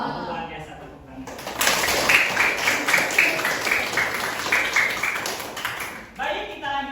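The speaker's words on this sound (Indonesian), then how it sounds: "Luar biasa, tepuk tangan." A classroom of students claps hands together for several seconds, a busy, close patter of many claps, with voices heard before and after.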